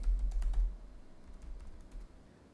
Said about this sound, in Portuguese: Eu vou digitar Proteus 2410.